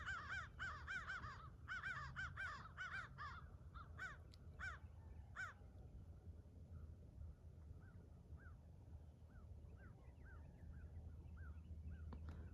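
Several crows caw loudly outdoors, harsh repeated calls crowding the first few seconds, then thinning to sparser, fainter caws over steady low outdoor rumble while chasing off an eagle.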